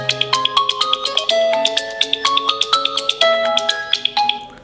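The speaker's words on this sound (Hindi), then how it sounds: "यहाँ पर डिफॉल्ट जो रिंगटोन आता है उसको मैं प्ले कर रहा हूँ" The default ringtone plays from the single speaker of a Realme GT Master Edition phone, a bright, loud marimba-like melody of quick plucked notes repeating in a steady looping phrase.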